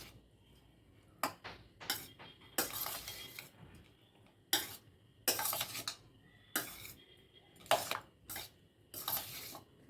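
Lemon rice being stirred in a pot, with a run of irregular metallic scrapes and clinks of a spoon against the vessel, close and fairly loud, separated by short pauses and no talking.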